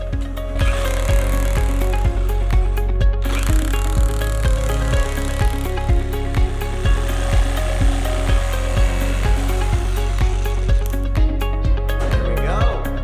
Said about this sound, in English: It's a scroller saw, is what I think it is.